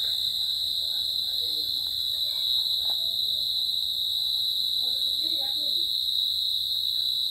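Crickets chirp on a moonlit night in Sylhet, Bangladesh, in a steady, unbroken high trill that stays loud and close throughout, with only faint scattered background noise beneath.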